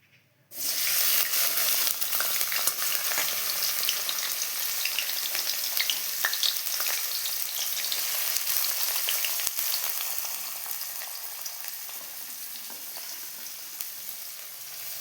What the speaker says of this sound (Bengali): এবার আমি পেঁয়াজগুলো ভালো করে ভেজে নেব।